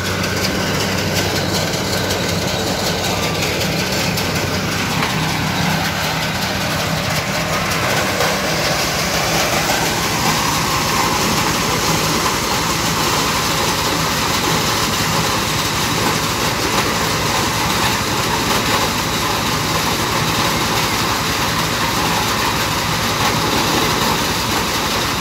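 A maize threshing vehicle's engine runs steadily in a village, a loud continuous mechanical drone with rumbling low throb and a grinding roar that shifts slightly partway through, with no break.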